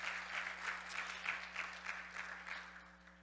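Church congregation applause, clapping together in a loose, rhythmic beat that sounds fairly distant over a low electrical hum and fades toward the end.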